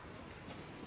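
Train from a video game running down a character on the tracks, a steady close rumble of rail wheels and clatter filling the whole moment without talk.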